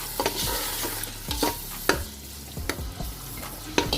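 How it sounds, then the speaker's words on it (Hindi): Garlic ginger paste, tomatoes and chillies stirred in a frying pan for chicken pulao, with a steady sizzle under repeated clear scrapes and clacks of the spoon against the pan, close and alone. "इसको ऐड कर देंगे और अच्छे से मिक्स कर देते हैं इनको।"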